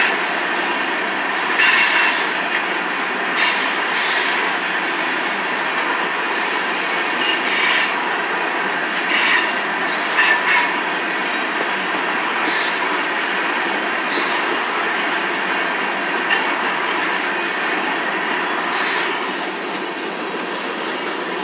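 A Union Pacific freight train rolls past steadily and loud in Altamont, Illinois, wheels squealing in repeated high screeches over a constant rumbling roar of the cars.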